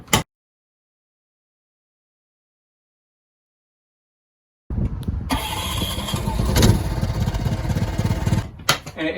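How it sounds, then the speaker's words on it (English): An onboard generator in a Ford Transit van fitted as a sound booth starts up after a long silence, kicking into a steady, loud running drone that holds for several seconds before briefly dipping near the end. "This generator is easy to use. It starts with a simple push of a button."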